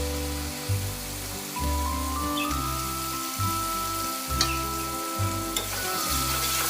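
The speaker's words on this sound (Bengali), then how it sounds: "কাশ্মীরি লঙ্কার গুঁড়োটা দিয়ে আবারও কিছুক্ষণ ভেজে নিয়ে" Kashmiri chili powder spice mix sizzles steadily in a pan while being stirred, with a rhythmic scraping pulse running under the constant frying hiss, close and fairly quiet.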